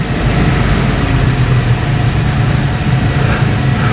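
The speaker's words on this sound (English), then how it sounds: "so that's on idle now" A Bayliner boat engine idles with a loud, steady low rumble, ticking over evenly and close by, alone without voices.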